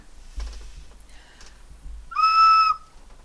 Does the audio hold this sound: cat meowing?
no